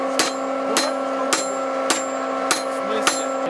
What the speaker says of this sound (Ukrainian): Я била молотком